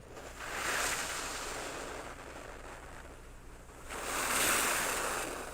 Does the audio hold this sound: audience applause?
no